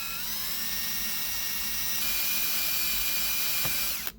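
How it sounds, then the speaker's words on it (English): A high-pitched drill with a small bit whines continuously at close range, drilling into metal on a Winnebago Workhorse blower motor, a steady shrill tone for several seconds before cutting off abruptly at the end. "I got me a small drill bit"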